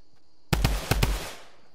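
A handful of sharp gunshots in a video game, four quick cracks fired in two pairs after a brief quiet, close and loud with a short decaying tail.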